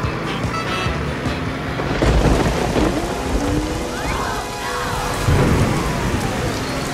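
Rain and thunder in a video game: a steady hiss of falling rain with rolling thunder rumbles swelling around the second and fifth seconds, loud and continuous, with no speech.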